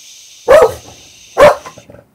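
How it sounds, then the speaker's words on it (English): A pet dog barks twice, about a second apart, each bark loud and close in an indoor crafting space, with a thin high whine in the background and no talk. "excuse me for the dog, wait while she stops barking"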